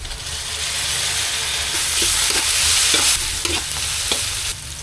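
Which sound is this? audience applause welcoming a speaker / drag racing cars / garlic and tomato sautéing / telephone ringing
garlic and tomato sautéing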